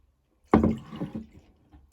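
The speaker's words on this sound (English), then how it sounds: "So half a cup, 125 mils of water to go into the bowl as well." About half a cup of water is poured into a bowl while making slime: a sudden splashing gush that trails off into smaller trickles and drips over about a second, close up, with no talking.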